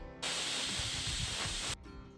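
A pressure cooker holding boiling potatoes on a medium flame lets out a loud, steady steam whistle that runs for about a second and a half, then stops.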